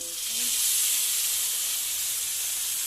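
Pieces of fish frying in hot oil in a wok give a loud, close, steady hissing sizzle that runs unbroken throughout.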